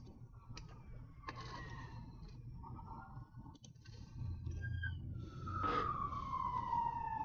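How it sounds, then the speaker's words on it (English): A fire engine siren wails in the distance, its pitch sweeping down and up over steady background traffic noise, growing somewhat louder toward the end. "Apologies for the siren noise. I live near a fire station."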